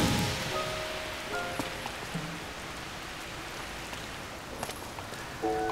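Rain falls continuously in Tears of the Kingdom, an even wash of hissing with occasional faint chimes and blips from the game, steady and moderately quiet without speech.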